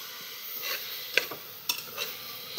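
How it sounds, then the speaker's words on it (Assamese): Grated coconut fried and stirred in a pressure cooker for coconut barfi, a soft steady sizzle broken by a few sharp scrapes and clinks of a spoon against the metal pot. "এয়া মই এতিয়া ভাজি আছোঁ নাৰিকলখিনি এনেকৈ কুকাৰতে"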